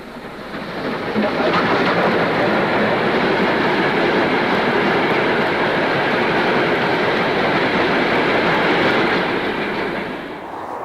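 A steam train, a Standard Class 4 locomotive hauling a weed-killing train, rumbles past for several seconds: a steady broad roar with rhythmic wheel clatter that swells in and fades slightly at the end.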